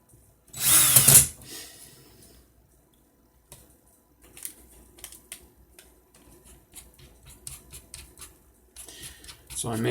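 A power drill whirs loudly for about a second, twisting wire for a vape coil, followed by quieter handling and clicking sounds over low background noise.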